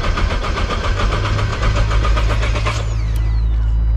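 A 2018 Nissan GT-R, bought smashed from an auction, cranks over with a loud, rapid, rhythmic churning of the starter for close to three seconds before the engine note settles into a steadier drone.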